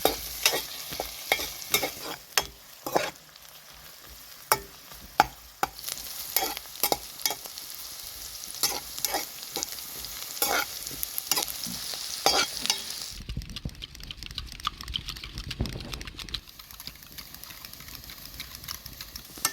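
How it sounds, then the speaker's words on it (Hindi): Onions sizzle steadily in hot oil in a pan while a spoon scrapes and stirs them in quick, irregular strokes for mushroom yakhni. The frying stays close and fairly quiet, with a brief lull in the stirring near the end. "इसी तेल में हम फ्राई कर लेंगे प्याज को।"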